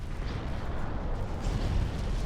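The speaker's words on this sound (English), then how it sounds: "Torpedo detonation." A torpedo detonation in the naval game Ultimate Admiral Dreadnoughts, a deep rumbling boom that swells and rolls across the whole moment, dense and low with no clear sharp onset.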